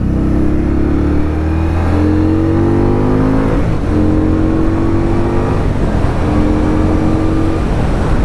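An Indian Scout Bobber Twenty motorcycle accelerates hard from a stop, its V-twin engine climbing steadily through several gear shifts, loud and close throughout.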